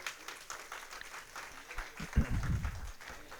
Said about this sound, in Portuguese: Você pode dar um forte aplauso a Jesus por isso?